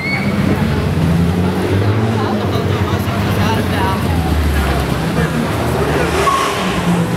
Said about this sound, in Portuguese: BMW M3 azul.